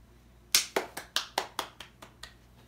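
A man claps for himself, about nine sharp, close claps in a quick, slightly uneven run that fades a little toward the end, with no talking over them.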